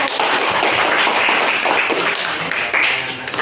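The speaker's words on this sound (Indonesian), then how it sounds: "kalau gitu kita kasih tepuk tangan" A classroom of students bursts into dense, close applause, a continuous burst of hand claps filling a few seconds before tapering slightly.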